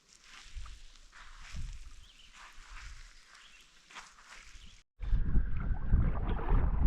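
Wind on a beach along the French River buffets the microphone in low gusty rumbles, growing suddenly louder and rougher partway through, with no voices.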